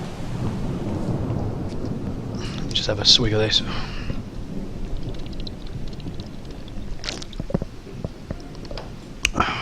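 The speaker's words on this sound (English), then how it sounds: "Let's get out of the rain." Rain patters and thunder rumbles in the survival video game Project Zomboid, a low rolling growl under steady rainfall while someone speaks briefly.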